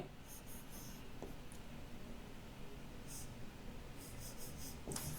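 Marker or chalk scratches across a classroom board during a maths lesson, short repeated strokes in faint bursts over a steady background hiss.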